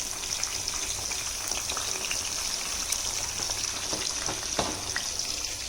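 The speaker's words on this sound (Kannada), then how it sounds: "ಮಸಾಲೆ ರೆಡಿ ಮಾಡಿರೋದು ಇಲ್ಲಿ ಫ್ರೈ ಆಗ್ತಾ ಇದೆ" Mushroom masala fries in a pan with a dense, steady sizzle and crackle, close and fairly loud, with scattered spits and pops throughout and no voices.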